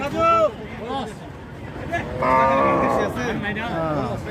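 Cows lowing at a busy rural cattle market, several loud drawn-out moos close by over a background of crowd chatter and people talking.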